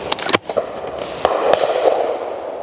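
An ATA sporter shotgun firing at clay targets on an outdoor shooting ground, with a few sharp reports in close succession near the start and then two more cracks, the shots ringing briefly against an open-air background.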